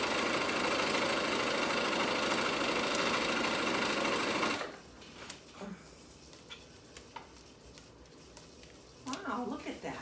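A sewing machine sews a fabric headwrap in one fast, loud run of rattling stitches, then stops, leaving faint handling noises and a voice near the end.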